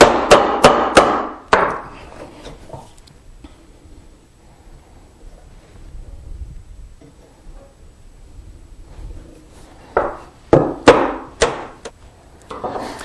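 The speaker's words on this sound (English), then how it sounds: "So at this point I've got the entire mortise chopped to depth, and I've squared up the ends." Mallet blows drive a chisel into wood while chopping a mortise for a hand-tool side table: close bursts of sharp, rapid knocks open and close the stretch, with a quiet lull between them.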